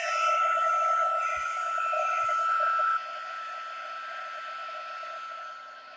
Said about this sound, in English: we're gonna go ahead and heat emboss these.